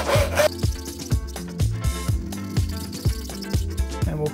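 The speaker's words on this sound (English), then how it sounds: "So long strokes with the saw." A hand saw takes long, steady strokes through wood while cutting dovetail tails for a Shaker table drawer, a regular rasping rhythm of about two strokes per second, close and clear.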